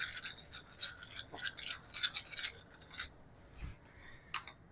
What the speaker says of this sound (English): I like adding some cracked pepper onto my tomato sauce. So I'm going to grind a little bit on.